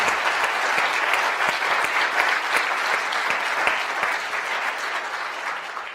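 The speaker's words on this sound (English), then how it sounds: "how about a round of applause for these fabulous" A lecture audience applauds loudly and steadily throughout, a dense, full wash of many hands clapping with no break and no talk.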